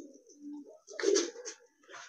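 Soft, throaty coos from a male and female pigeon close by, a few rolling calls in quick succession.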